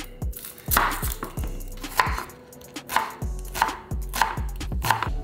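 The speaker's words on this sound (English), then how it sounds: "Then we're gonna cut up the veggies." A knife chops fresh vegetables on a cutting board in a close series of sharp thuds, roughly evenly paced and clearly separated, with no one speaking.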